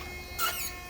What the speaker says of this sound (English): Good old warning chime.